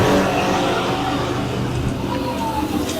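Thunder Stocks stock cars race at Brighton Speedway, their engines forming a loud, sustained, blended roar close by with faint tire noise; a voice is barely present beneath it.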